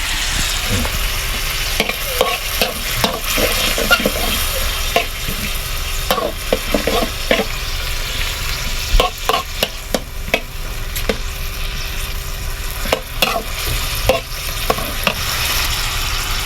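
Pork and onion flowers are stir-fried in a pan, a continuous close sizzle punctuated by frequent clattering spatula strikes and scrapes in an uneven rhythm, with no talk.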